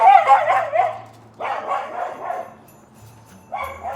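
A dog barks at a squirrel in a December garden, three bursts of close, loud barking with short gaps between, the last clipped short, with no talk over them.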